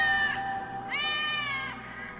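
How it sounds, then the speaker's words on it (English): Cats meowing in a Batman video game, two drawn-out, clear, tonal meows following one another, near and moderately loud over a low background hum, with no talking. "Now her cats are all fucking loose."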